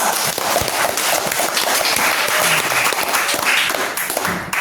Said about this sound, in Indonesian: Oke, tepuk tangan untuk robot.